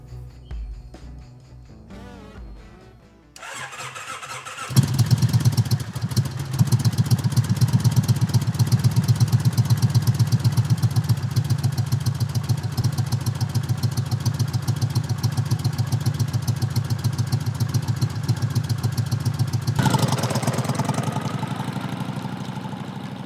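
A Kawasaki Vulcan cruiser motorcycle engine idles with a low rumble, then revs up and holds a steady, loud drone while riding, easing off near the end.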